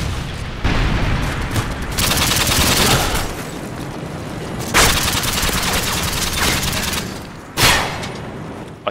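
Rapid bursts of gunfire from a first-person shooter video game, loud and continuous with sharp heavier shots punctuating the barrage near the five- and seven-second marks.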